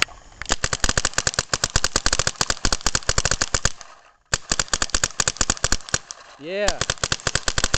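A paintball gun fires by compressed air at about two balls a second, a fast run of sharp loud pops outdoors that pauses briefly, then resumes, with a short voice heard partway.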